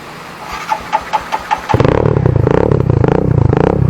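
A motorcycle at a forest campsite cranks with a few rhythmic starter pulses, then catches and settles into a loud, steady idle right near the microphone, with no talking.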